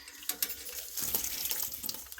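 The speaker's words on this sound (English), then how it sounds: "drop some of that water out so that I can assess" Water tipped out of a lucky bamboo container, a short splashing pour with irregular bursts that runs steadily for a couple of seconds, close by and fairly quiet.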